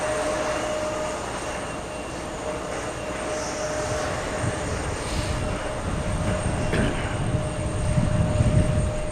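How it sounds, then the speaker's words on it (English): An Aer Lingus airliner comes down and touches down at JFK, a steady distant engine roar with a thin high whine, the rumble thickening toward the end as it rolls out, with no talk. "Aer Lingus still looking really nice as it comes down and touches down."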